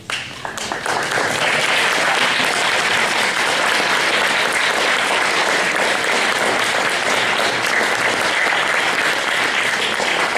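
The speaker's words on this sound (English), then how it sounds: "you guys just clap, and you get to clap again" Sustained crowd applause at a 2019 Troop 854 Eagle Scout Court of Honor, starting with a few scattered claps and quickly swelling into a loud, continuous roar of hands that holds steady for about ten seconds.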